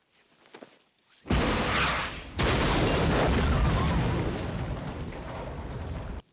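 A rocket launcher fires and explodes in the action film The Enforcer, a loud sudden blast followed by a sustained, roaring rumble of explosion and debris that slowly fades.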